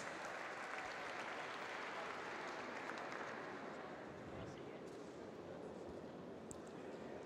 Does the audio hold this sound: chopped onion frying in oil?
no